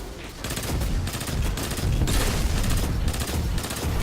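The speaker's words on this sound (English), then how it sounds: "just listen to the way that this gun sounds" Rapid bursts of pulse-rifle fire from the Graviton Lance exotic in Destiny 2, loud and close, with dense repeated volleys and booming impacts that run almost continuously.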